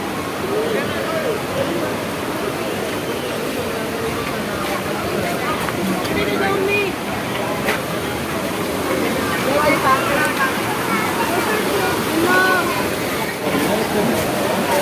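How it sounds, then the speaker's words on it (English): The Sahastradhara river at Dehradun rushing steadily, a broad continuous roar of flowing water with a crowd's voices and chatter mixed underneath throughout. "here you see that this is that Sahastradhara river"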